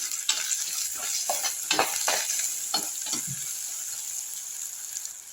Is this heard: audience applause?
no